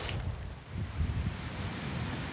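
Strong sea waves and gusty wind on a rocky island shore in winter, a steady rumbling wash of surf with wind buffeting the microphone, fairly faint and continuous with no talking.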